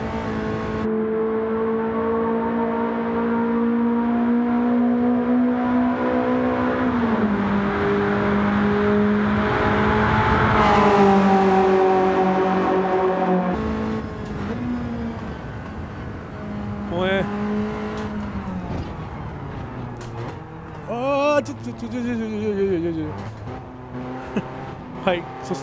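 A BMW M3 with a naturally aspirated inline-four in Gran Turismo 7 holds long high revs that climb and drop through gear changes, loud and sustained, with sharper revs and blips near the end.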